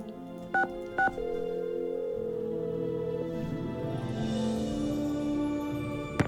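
In a Nancy Drew game, two short touch-tone dialing beeps sound, followed by a steady ringing tone that carries on with faint background noise.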